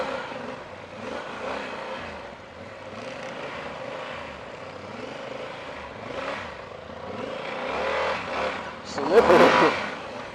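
A heavy 2014 Yamaha XT1200 Super Tenere rides off-road, its engine droning steadily with wind rush and a louder surge near the end. A rider talks over it.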